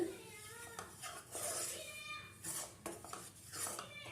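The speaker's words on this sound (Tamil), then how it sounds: "இந்த மாவை வந்து கொஞ்சம் கொஞ்சமாக எடுத்து இந்த நெய்யில் போட்டு நல்லா மிக்ஸ் பண்ணிக்கணும்" Wheat flour being worked into ghee in a pan for a kovel sweet, with metal spoon scrapes and clinks against the vessel in irregular bursts, fairly close, faint voices or kitchen noise around.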